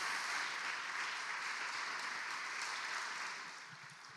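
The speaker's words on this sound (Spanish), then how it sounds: "¿por qué no le damos un aplauso al Señor?" A church congregation claps together in steady, dense applause that holds strong for several seconds, then tapers off toward the end.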